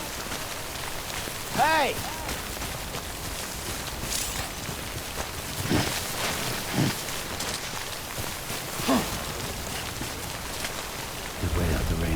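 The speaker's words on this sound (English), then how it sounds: "Just wait out the rain over there." Steady rain pattering in the video game Death Stranding, a constant hiss throughout with a few low rumbling bursts like thunder, while a voice shouts briefly and game sounds chirp over it.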